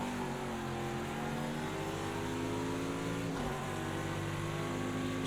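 Race car engine in an IMSA GTD Pro racing game at Road America, droning loudly and steadily as it accelerates, its pitch climbing in layered harmonics with a brief dip near the middle before it pulls on again, no voices.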